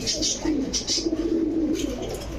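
Royal Teddy pigeons in a shop give soft, low cooing calls that repeat steadily across the stretch, close by, with faint brighter chirps mixed in and no talk.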